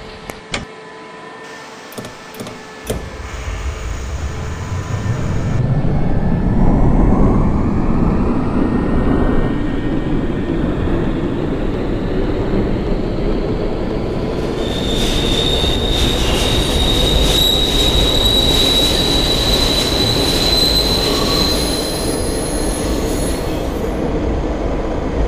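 A 1969 NYCTA Franklin Avenue Shuttle subway train in the openbve simulator rumbles up to speed, its wheels squealing sharply and steadily over a loud continuous roar for most of the run.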